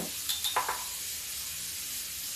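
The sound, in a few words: cumin and garlic sizzling in hot oil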